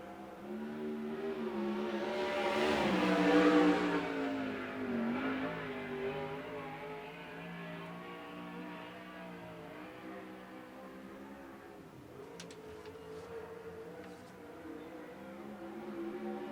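A USAC Southwest qualifying car roars past at Central Arizona Speedway, swelling to a loud peak as it goes by, then fading into a lingering engine drone as laps continue.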